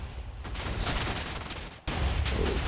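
Minecraft Factions TNT cannon firing in a video game: a dense, loud barrage of overlapping explosive blasts that drops out briefly, then resumes just as hard with no speech.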